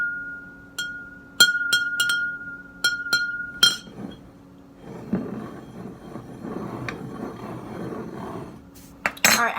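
A spoon stirs water round in a glass, giving a run of bright, close clinks against the glass in the first few seconds, followed by a softer swirling wash of water and a final few clinks.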